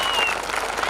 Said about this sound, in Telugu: ఒక్కసారి అమ్మకు మనము నివాళులు అర్పిద్దాం చప్పట్లతో దొరసానికి